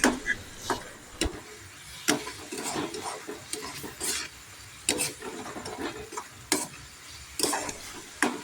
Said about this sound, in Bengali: আরও কিছুক্ষণ ভালো করে নেড়ে চেড়ে নেব।